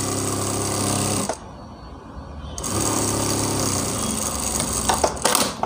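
A sewing machine runs in a steady rapid rattle while stitching a blouse lining, pausing briefly before resuming with the same mechanical chatter, then stopping and starting again.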